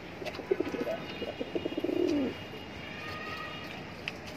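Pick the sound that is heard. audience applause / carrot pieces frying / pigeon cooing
pigeon cooing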